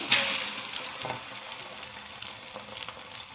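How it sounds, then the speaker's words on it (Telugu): A tomato and wheat-flour paratha frying on an oiled pan, with a bright sizzle that swells at first and then settles into a fluttering hiss dotted with small crackles. "పెన్నం పైన నూనె అయితే వేస్తున్నా కదా, ఇప్పుడు పరోటా వేసుకుందామండి"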